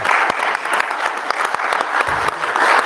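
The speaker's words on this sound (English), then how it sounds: "she's the one who deserves the round of applause" A conference audience breaks into loud, sustained applause, a thick continuous patter of many hands with sharper individual claps standing out, filling the space close and evenly from start to finish.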